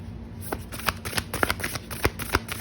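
Tarot cards are shuffled by hand in quick, papery riffles and soft slaps, a close, steady run of short bursts with no talking.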